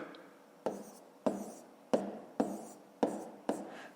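Pen or chalk strokes tap and scratch in six sharp, evenly spaced bursts while numbers are written out for a fifth-grade subtraction exercise, each stroke close and crisp against a quiet room.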